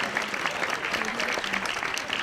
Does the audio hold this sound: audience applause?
yes